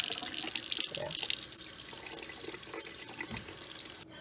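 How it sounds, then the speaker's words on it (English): Tap water streams from a kitchen faucet over raw chicken breasts in a sink, a steady splashing hiss that is louder at first, then softens into a lighter, uneven trickle. "I'm just going to run this on the water for about maybe a minute or so"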